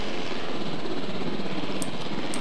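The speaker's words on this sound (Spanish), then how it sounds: "Vamos con el helicóptero, va." Helicopter in the dinosaur park game Jurassic World Evolution, a steady, even rotor-and-engine drone filling the whole stretch at moderate loudness, with no talk over it.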